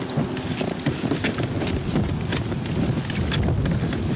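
Steady broadband wind buffeting the microphone on a cold day out fishing, loud and continuous throughout, with occasional rumbling gusts and faint knocks underneath.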